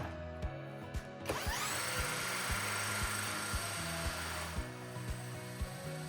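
A battery drill spins an alternator shaft through an Allen head bolt at about 1,600 RPM, a steady whirring hum rising at the start with regular clicking ticks throughout, close and moderately loud.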